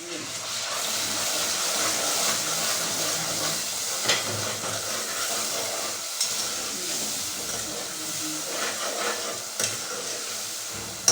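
Lightly reddened onions frying and stirred in a pot for a handi dish, with a steady loud sizzle and hiss throughout and occasional spoon scrapes, no talking.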